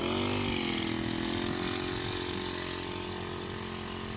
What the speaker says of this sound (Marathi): तर भावाने औषध मारायला चालू केले